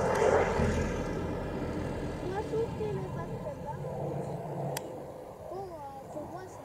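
Airliner flying low overhead, a faint, distant engine roar that swells slightly and fades while people talk over it in the foreground.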